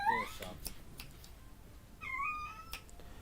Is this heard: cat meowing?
yes